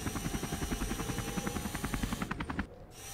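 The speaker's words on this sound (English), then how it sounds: "Look, it's a mini helicopter." A mini helicopter flying in a video game, a loud close rapid rotor chop with steady pulsing beats that cuts off abruptly near the end.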